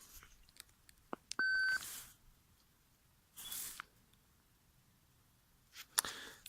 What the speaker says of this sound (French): Donc là j'ai sorti l'Alter 71 de chez Rutus. On va le mettre en route.